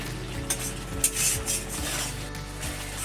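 Water added to frying mustard paste for a silver carp fish curry: a steady sizzle in the pan with a few light scrapes and clinks of a spoon against metal, heard close and alone under a faint hum.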